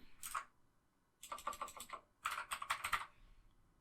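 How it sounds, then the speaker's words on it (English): Fingers typing on a computer keyboard at close range, three separate bursts of quick clicky keystrokes with brief pauses between them in an otherwise quiet room. "This time I'm going to hold T on my keyboard and left click."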